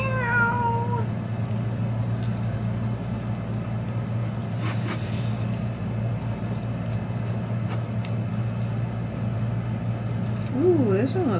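A cat meows a few times over a steady low household hum, with short whining calls near the start and end.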